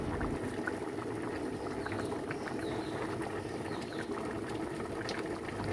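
A Kerala coconut crab curry simmers on the stove, a soft continuous bubbling and popping at low level with no voices.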